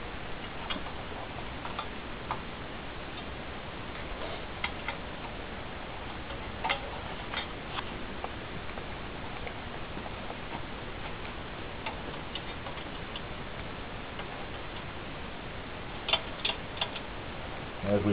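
A torque wrench clicks as exhaust pipes are tightened: faint, sparse ticks and clicks over a low, steady hum, with a couple of sharper clicks near the end and no clear talk.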